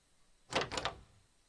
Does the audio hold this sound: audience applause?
no